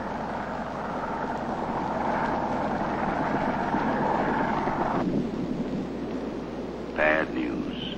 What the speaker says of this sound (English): Wind's up to 15 miles an hour now, with peak gusts of 25.